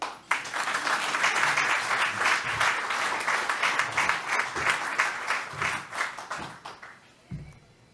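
An audience at a Rotary Club program applauds to welcome a speaker. Steady, dense clapping from a room full of people lasts several seconds, then thins out into a few scattered claps before it fades.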